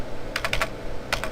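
Keys tapped on a computer keyboard while working in Microsoft Word, including Enter and Tab presses, a few quick close clicks in two short clusters over a low steady room hum.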